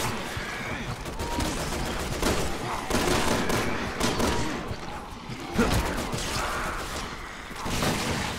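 Gunfire in Resident Evil 6 during the Leon and Helena campaign: repeated scattered shots and bursts under game action, with people talking over it at times.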